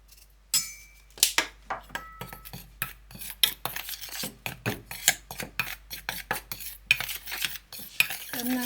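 Rapid metal-on-bowl clinks and scrapes of batter being whisked with baking powder and black pepper, a steady irregular rhythm of close, fairly loud strokes with no talking.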